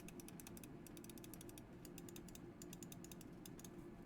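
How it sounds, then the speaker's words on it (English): Rapid clicks from a Razer Viper Mini gaming mouse, a quick series of sharp, light ticks in irregular bursts, close but quiet over a low background hum, with no talking. "if you want to hear the click noise of the Viper Mini"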